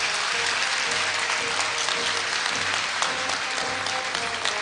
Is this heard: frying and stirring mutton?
no